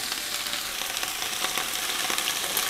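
Chopped onion sizzling in hot melted lard in a well-heated pot, a loud steady crackle with close spitting pops and no voices.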